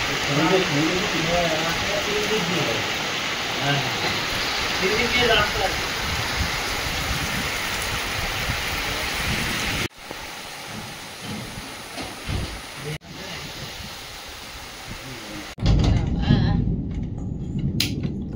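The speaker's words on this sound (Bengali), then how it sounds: "আজকে হঠাৎ বৃষ্টি চলে এসেছে।" A sudden rain shower in a rural Bengali farming village during the monsoon month of Bhadra makes a steady, loud hiss that runs throughout, with people talking over it and a brief louder rumble near the end.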